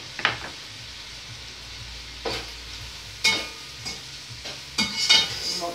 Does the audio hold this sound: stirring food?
yes